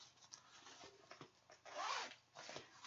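Zipper on a small pocket of a travel bag with a net-like lining, several short quiet pulls with pauses between them, no voices.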